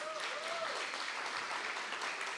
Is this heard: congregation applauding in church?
yes